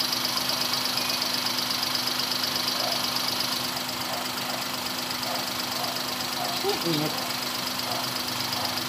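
A car engine idles during a radiator flush, a steady low hum with a faint mechanical rattle, under a brief spoken word.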